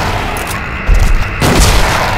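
Gunfire in the horror video game Silent Hill 2, two heavy booming shots roughly half a second apart, each followed by a sustained loud low rumble, with no voices.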